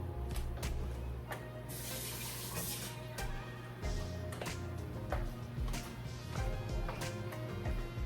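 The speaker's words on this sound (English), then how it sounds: "So let me get the cold water." Cold water runs from a kitchen tap in a steady splashing stream for several seconds, with clatters of dishes and handling noises over it.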